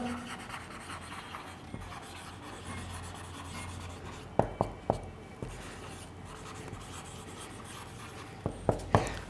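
A teacher writes examples on a board during a biology class, with faint continuous scratching and several sharper taps of the writing tool, in a quiet room with little talk.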